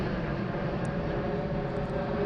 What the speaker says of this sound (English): Got another big A380 coming.